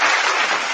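A short burst of applause, steady and fairly loud, lasting under a second with no talk.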